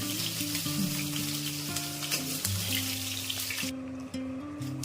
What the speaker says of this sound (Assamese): চয়াবিনটো ধুনীয়াকৈ ৰঙা হোৱালৈকে ভালদৰে এনেকুৱা ফ্ৰাই কৰি ল'ব